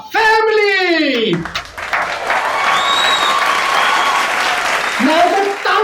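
An audience applauds a quarrelsome husband-and-wife comedy pair as they come on stage, giving steady, full clapping. The clapping sits between brief bursts of a host's voice at the start and end.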